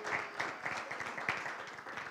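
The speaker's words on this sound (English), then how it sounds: "let's give a huge round of applause for both Rich and Ryan as MCs for ProfCon" Conference audience at ProfCon applauding, a soft, somewhat distant patter of scattered hand claps that holds steadily for a couple of seconds.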